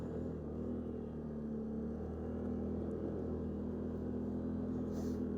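A Can-Am Outlander Max ATV fitted with tracks crawls along in low range, its engine a steady, fairly quiet low drone that holds an even pitch throughout with no voices.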